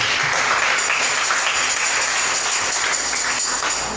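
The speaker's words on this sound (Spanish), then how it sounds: "Denle un aplauso al Señor por eso." Congregation applauding in a church service, a steady dense wash of clapping that holds evenly at full strength without a break, with no voices rising above it.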